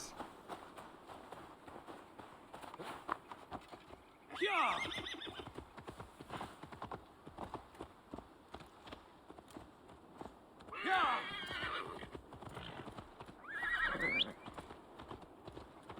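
Horse from the Assassin's Creed Valhalla video game, with steady hoof clip-clop throughout and three loud neighs or whinnies spaced several seconds apart over a game soundscape.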